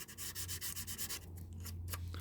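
An old Jo-Han model car part is scuffed with rapid close rubbing strokes, a soft rhythmic scratchy sound repeating several times per second over a low hum.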